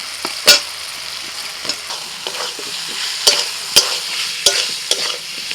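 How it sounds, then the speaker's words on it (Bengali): Fried potatoes are stirred into a cooked-down masala of tomato and onion in a pan, with sharp spatula scrapes and clacks at an irregular rhythm over a close, continuous sizzle. "ভাজা আলু দিয়ে দিচ্ছি।"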